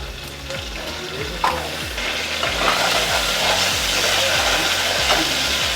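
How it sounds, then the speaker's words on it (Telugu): Onions fry in a pan for Ankapur chicken curry with a strong, steady sizzle that runs throughout, along with faint stirring scrapes. "కొంచెం ఎక్కువ ఆనియన్స్ ఫ్రై అయినా పర్వాలేదా"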